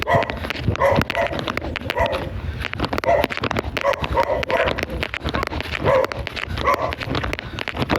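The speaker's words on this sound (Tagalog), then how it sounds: "Pasensya na po kayo at may ng aso po." A dog barks repeatedly at close range in quick, irregular bursts, mixed with whimpers and yips, loud throughout with only faint voices.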